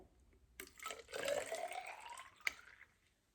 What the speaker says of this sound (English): I need 100 milliliters of water in each of these 2 empty cups here.